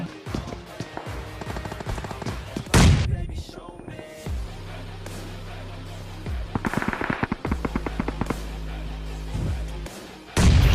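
Gunfire in the BGMI mobile battle royale game: repeated bursts of rapid automatic weapon fire and single shots, loud and close, mixed with other in-game effects.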